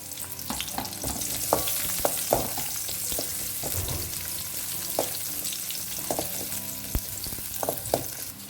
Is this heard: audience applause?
no